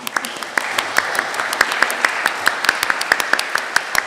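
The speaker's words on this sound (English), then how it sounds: "apologise to Alice because I forgot to get everyone to give her a very round warm of applause to welcome her to the North East." A conference audience at a 2022 beef industry expo in the North East applauds to welcome a speaker, steady clapping from a modest crowd nearby, sustained and fairly loud throughout.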